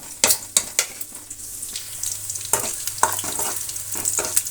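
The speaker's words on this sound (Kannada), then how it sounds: "ಈರುಳ್ಳಿ ಚೆನ್ನಾಗಿ ಫ್ರೈ ಆಗಬೇಕು ಒಗ್ಗರಣೆಯಲ್ಲಿ" Onion fries in hot tempering oil for a tamarind and chickpea curry, a steady close sizzle broken by sharp clinks and scrapes of stirring, busier at the start and settling into a continuous hiss.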